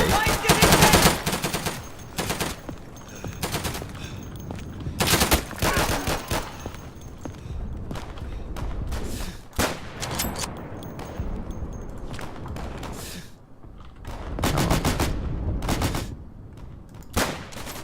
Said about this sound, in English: There appears to be gunfire coming in this direction.